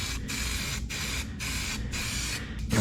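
Spray can applying semi-gloss black engine enamel on a 1961 Chevy wagon engine, a loud steady hiss in several bursts with brief gaps between them, close and with no talk.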